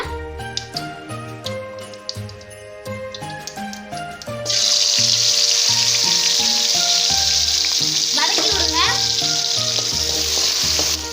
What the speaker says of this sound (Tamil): கடுகு நல்லா பொறுத்து வச்சுங்க சின்ன வெங்காயம் சிறிதளவு போட்டுக்கலாங்க